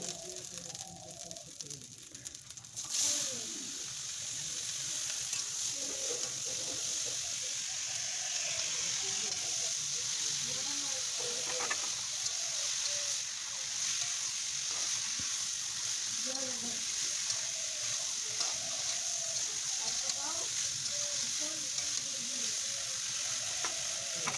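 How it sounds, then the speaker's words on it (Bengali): Rupchanda fish sizzles steadily in a pan, giving a constant bright frying hiss with occasional soft scrapes and ticks from stirring, heard close up and fairly quiet throughout. "তো চলো নাড়াচাড়া করে একটু কষিয়ে নিয়ে তারপরে ঝোল দিয়ে দেব"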